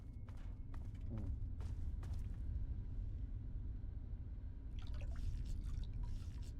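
Water drips in the Fallout 3 video game, sounding as several faint, irregular drops over a low, steady rumble, with the drips bunched near the start and again near the end.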